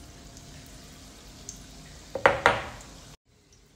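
Potato vadas for Mumbai street-style vada pav are slipped gently into hot oil. A low background sizzle is broken by two sharp splashing bursts with a clink, and then the sound cuts off abruptly. No one speaks.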